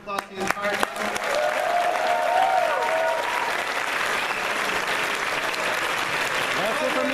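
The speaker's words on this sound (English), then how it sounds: "Let's give a big round of applause to the entire panel." An audience applauds the Star Ocean panel at Anime Expo, a dense sustained burst of clapping from a large crowd that holds steady for several seconds.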